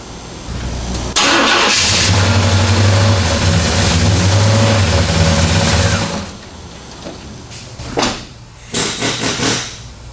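A square-body Chevrolet C10 pickup truck starts for the first time: a loud cranking catch, then about four seconds of rough running before it dies, followed by a few short blips and rattles.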